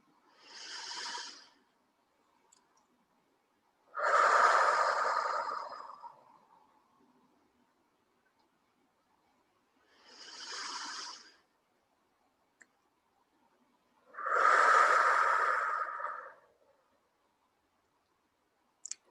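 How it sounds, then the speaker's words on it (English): Slow, deep breaths during a guided breathing exercise: four long, soft airy breaths, alternating shorter inhales with fuller, louder exhales, close to the microphone in an otherwise quiet room. "let's just take a few deep breaths"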